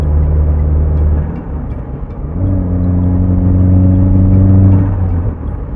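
A car with a swapped Toyota 3SGTE turbo engine runs loud and steady, its low engine drone giving way to a rising, sustained harmonic whine midway before easing off, with no voices.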